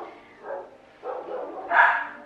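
A dog barks in three short bursts, each a little louder than the last, the final one the strongest, with no talking.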